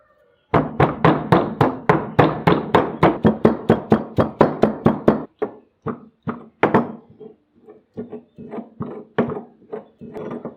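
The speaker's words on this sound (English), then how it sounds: "take the cut carrot pieces in a mortar and pestle and pound to crush them" Carrot pieces pounded in a mortar and pestle, a rapid even run of about twenty dull thuds up close, then slower, irregular blows with short gaps, no talking.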